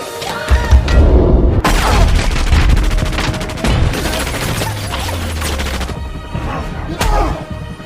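Movie-scene gunfire as a dropped gun goes off on a stairway inside an apartment: loud bursts of shots and booming impacts fire almost continuously for about eight seconds, with brief dips between volleys.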